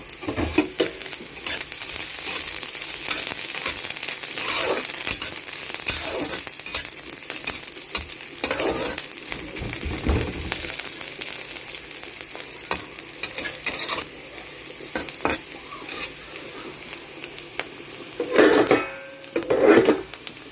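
Green chillies and browning ingredients frying in a pan, with a continuous close sizzle and frequent scraping stirs of a spoon against the metal, a few louder clatters near the end.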